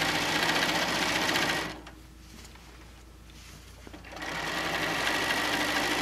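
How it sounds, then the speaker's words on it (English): A sewing machine stitches a quilt with a fast, steady mechanical chatter that runs loud, pauses for about two seconds, then starts up again at full speed. "find a place on your presser foot that you can watch, rather than watching your needle bounce up and down"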